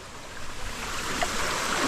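Irrigation water from a damaged channel rushes into a rice paddy as a steady, close, broad wash of flowing water, growing slightly louder toward the end.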